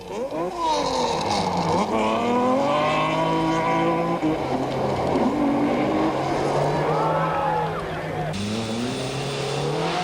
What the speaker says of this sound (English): just made it through the course before the back of his car went into a slide